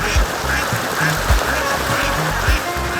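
Ducks on a combined duck and fish farm quack in short repeated bursts, several calls overlapping against a steady outdoor background.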